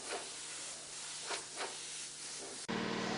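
An airbrush sprays pearl paint in short hissing bursts, two or three brief pulses over a soft steady hiss, then a sudden louder constant spray near the end.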